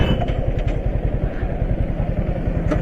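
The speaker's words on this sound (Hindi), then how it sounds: "बाइक ही बाइक है" Several motorcycles idle together in a long queue outside a college, their engines putting out a steady, close, low chugging rumble that holds even and continuous throughout.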